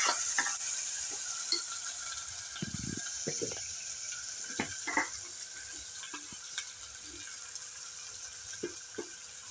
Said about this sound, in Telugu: ఇక మీడియం ఫ్లేమ్ మీద ఇవి చక్కగా ఫ్రై అవ్వాలండి